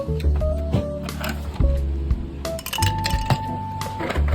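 Ice cubes clink and rattle in a glass while a matcha soy milk latte is made, with repeated bright knocks and clatters close by and quiet talk now and then.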